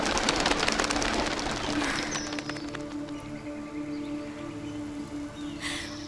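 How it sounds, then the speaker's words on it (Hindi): A bird coos in a soft repeated call, probably a pigeon, heard fairly close behind a louder burst of noise at the start that fades away. Faint tonal sounds continue underneath. "वो पंछी"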